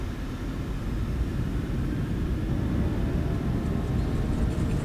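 A Boeing 737-900 in KLM livery spooling to takeoff thrust in Microsoft Flight Simulator 2020, a steady loud engine roar and rumble holding even throughout with no voices.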